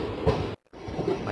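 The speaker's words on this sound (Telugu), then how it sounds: "మన ట్రైన్ బయలుదేరిపోయింది భీమవరం టౌన్ నుంచి" Machilipatnam Express rolling out of Bhimavaram Town, a close rumbling rattle from inside the carriage, briefly cut to silence midway before the steady clatter resumes.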